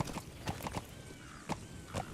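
Hooves of D-Horse, the horse in Metal Gear Solid V, clip-clop in an irregular walking rhythm of about seven soft, dull strikes, quiet and fairly close with no talking.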